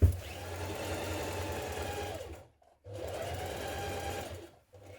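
A domestic sewing machine runs a stretch stitch joining the ends of elastic for leggings, two steady whirring bursts separated by a brief pause, close and moderately quiet.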